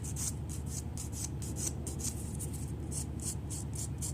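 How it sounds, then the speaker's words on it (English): A nail file rasps around fiberglass nails in quick, even back-and-forth strokes, about two or three per second, close and steady with no talking. "Just be careful not to file too close to the nail so you don't get rid of the actual fiberglass"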